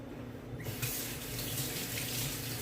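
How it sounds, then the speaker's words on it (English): Tap water runs steadily into a kitchen sink as a lemon is rinsed under it, a close, continuous splashing hiss that starts abruptly and continues alone. "I'm gonna rinse my lemon off."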